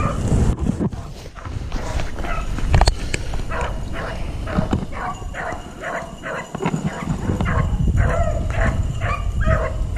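A dog barks in the woods during a rabbit hunt, with repeated barks and yips coming from far off against outdoor ambience, and occasional distant voices.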